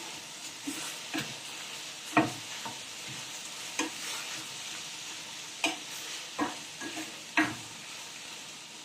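Leftover lechon sisig stirred in a pan with pepper, scraping clacks of the spatula recurring every second or so over a soft steady sizzle, close and moderately quiet.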